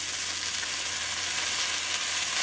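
Chicken breasts with softened chiles and onion sizzle loudly on a griddle as seasoning goes in, a dense, even hiss filling the whole moment with no voices.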